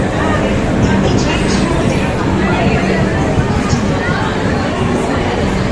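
A train pulls out of a busy railway station in Bangalore, a steady broad rumble running throughout with crowd chatter and general platform hubbub mixed in.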